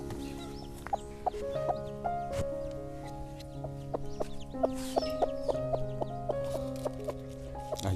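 A hen clucks low and repeatedly among her chicks, whose high, thin peeps overlap in quick, continuous chirps, close by and without talk.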